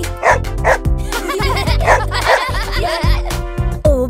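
A cartoon dog barks in repeated yappy bursts over a bouncy children's farm-song backing, with giggling mixed in.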